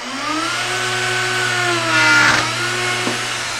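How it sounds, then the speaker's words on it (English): Router with a bottom-bearing bit cutting wood, running without a vacuum attached: a loud, steady motor whine sustained throughout, swelling briefly as the bit bites into the workpiece, with no talking. "I'm just going to go ahead and route."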